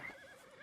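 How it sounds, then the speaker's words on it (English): Horse in the video game Red Dead Redemption 2 gives a short, wavering whinny, fairly close and alone, lasting well under a second. "I do kind of like this horse."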